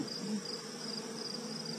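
Honeybees around an opened hive frame dripping with honey, a soft steady buzzing hum that is faint and continuous, with no talk over it.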